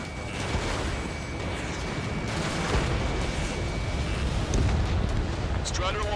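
Enemy aircraft exploding in the jet combat game Ace Combat 7, a loud, continuous roaring blast with rumbling low end and wind-like rush that sustains throughout, with radio chatter layered over it.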